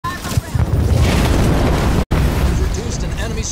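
A loud, dense explosion as an enemy structure is destroyed in the video game Halo Wars 2, a sustained rumbling blast with a brief cut partway through, mixed with battle noise and game voices.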